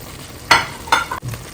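Vegetables fry in a spicy gizzard sauce as a spoon stirs them, with two quick sizzling scrapes and a sharp clack, short and close.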